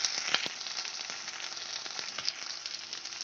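Ginger garlic paste sautéing in a pan for a Bengali katla posto recipe, a continuous close hissing sizzle with small crackling pops, steady throughout with no voices.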